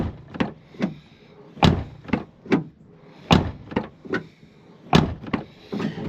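Several solid thuds from a Chevy Silverado pickup truck door being shut, about a dozen sharp closes and latch clunks spaced unevenly over a few seconds, loud and close by with no talking.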